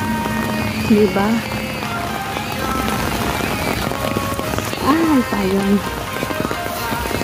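Heavy rain pours down in a black rainstorm as a steady, dense hiss, with a voice speaking briefly over it.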